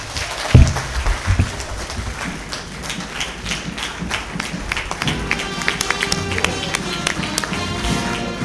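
Audience applause at a graduation lecture for an executive intelligence management course, a sustained wash of many hands clapping in a hall, with a couple of loud thumps near the start and a slight swell toward the end.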